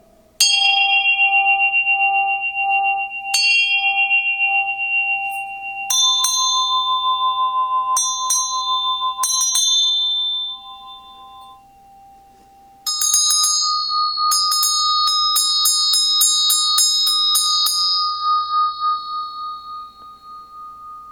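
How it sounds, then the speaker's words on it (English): A struck bowl-type bell rings out in a series of clear, sustained tones, each strike blooming and decaying slowly, with a faster run of overlapping rings near the end; no talking. "But anyway, it's a great sounding bell."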